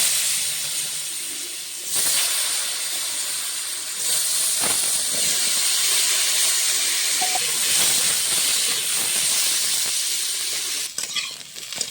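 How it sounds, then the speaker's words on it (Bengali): Potatoes frying in hot oil left over from frying fish, a steady loud sizzle and hiss running throughout with brief stirring breaks and a few louder spatters near the end; no one speaks. "মাছ ভাজার তেলে আলুটা ভেজে নেব।"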